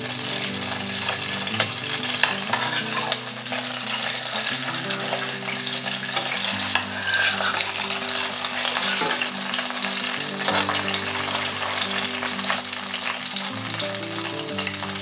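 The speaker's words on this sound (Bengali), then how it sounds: "মাথাটা এভাবে আস্তে ভাজতে হবে।" A fish head frying gently in oil in a home kitchen pan, a steady close sizzle with occasional stirring and spatula scrapes, no talking.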